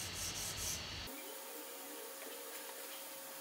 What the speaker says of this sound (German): aber ich möchte jetzt hier an den Seiten noch mal kurz mit dem Buffer lang gehen, damit ich da keine Kanten irgendwie habe.